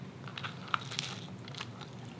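Biting into a crisp cast iron pizza crust made with Amish friendship bread dough, a few quiet crunchy bites and chewing crackles, close and faint, with no talking.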